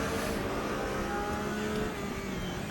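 A race car engine in a racing video game, played at Zolder on a wheel setup, holds a continuous high revving drone with a slight pitch shift, steady and moderately loud.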